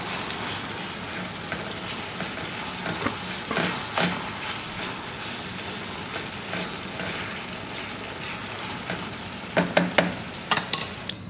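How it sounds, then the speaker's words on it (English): Ground meat for homemade sloppy joes, seasoned with salt and black pepper, fries in a pan. The sizzle runs steadily throughout, broken by scraping stirs and a cluster of sharper clanks and pops near the end. "Stir it around."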